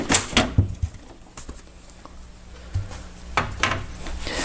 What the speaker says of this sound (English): you hold the corner of the panel and you just pull it away